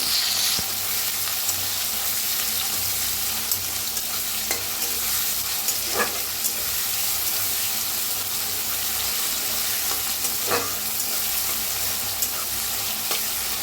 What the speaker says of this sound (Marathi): तर कांदा छान असा भाजलेला आहे